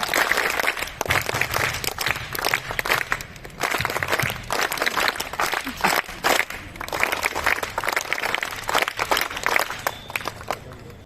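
Students at a school assembly break into loud, sustained clapping, a thick crackle of many hands that surges and briefly dips in waves over eleven seconds.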